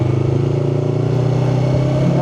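A Yamaha R3 motorcycle engine holding a loud, steady drone up close from the rider's position, with a slight rise in pitch toward the end as the throttle is worked during a gear change.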